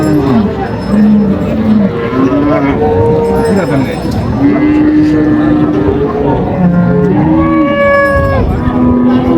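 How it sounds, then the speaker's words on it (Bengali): At a busy rural cattle market in Dinajpur, dairy cows and calves of improved breeds moo loudly and close by, their long calls overlapping one after another. "গাভী বাছুর আমরা দেখছিলাম এখানে"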